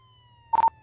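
A police car siren in a video game gives a short, loud electronic whoop lasting well under a second, cutting sharply through a quiet background hum.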